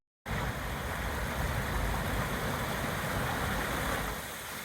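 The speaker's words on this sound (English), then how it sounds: "I want to go ahead and get the sound of the river, but I really don't want the waterfall in it." A river flows steadily just upstream of a waterfall, making a dense, even rush of water that carries on without a break and sits moderately loud in the foreground.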